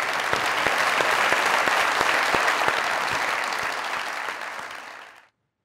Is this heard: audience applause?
yes